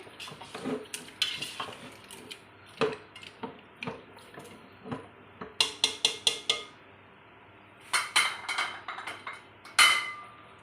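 Repeated metallic scraping and clinking of a spoon stirring mutton karahi ingredients with salt and water inside a metal pressure cooker, irregular strokes with occasional sharper clanks, close and alone.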